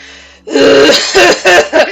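A man imitates a bad smoker's harsh, wet cough that sounds close to retching, as a fantasy tabletop game character hit by poison gas: a few loud, rasping bursts close to the microphone.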